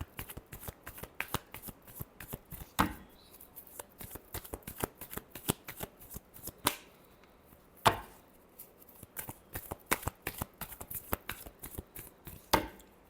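A deck of tarot cards being shuffled by hand, with bursts of rapid riffling clicks and a few sharp slaps as the cards are squared, repeating in close, moderately loud rounds with no talk.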